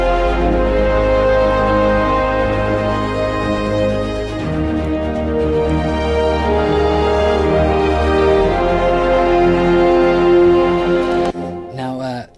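Loud, epic orchestral brass from the CinebrassPRO sample library plays a sustained thematic chorus of layered chords, swelling and shifting before ending abruptly.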